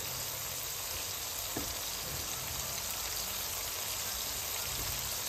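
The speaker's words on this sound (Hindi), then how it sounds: "इस टाइम पे हम इसमें डालेंगे टमाटर" Tomatoes going into a pan of sizzling fried onions and chickpeas, a dense, steady hiss of frying with a couple of faint knocks, close and unbroken.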